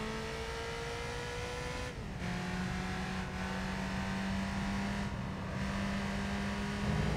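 A race car in Gran Turismo 3 pulls away from a first gear start, its engine note climbing steadily and loud, then dropping with brief pauses at gear changes before rising again.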